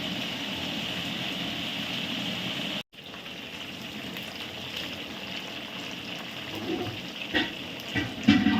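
Onions deep frying in hot oil for a large batch of onion chicken, a steady close crackling sizzle with a brief cut, then bubbling that grows busier toward the end.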